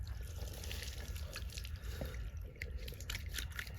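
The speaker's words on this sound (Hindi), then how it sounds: "ये हैं अपने गुरु जी, ठंडे पानी में नहा रहे।" Water splashes and drips as a man bathes in cold water at an ashram, a continuous wet trickling and spattering with small irregular splashes throughout, fairly close and steady.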